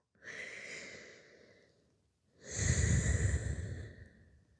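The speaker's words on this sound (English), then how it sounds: "And just take another full breath." A deep, full yoga breath taken alone and close: a long airy inhale, a pause, then a stronger, fuller exhale that swells and trails off slowly.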